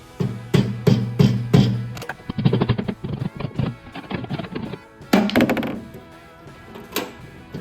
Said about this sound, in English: you just want to take your flathead screwdriver and a whammer